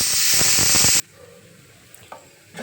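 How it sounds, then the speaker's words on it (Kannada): A pressure cooker whistle vents steam while spicy pumpkin palya cooks: a loud, steady hiss for about a second that cuts off abruptly into a quiet kitchen with a few faint clicks. "ನಾನು ಇನ್ನೂ 1 ವಿಶಲ್ ಕೂಗಿಸ್ಕೊತೀನಿ"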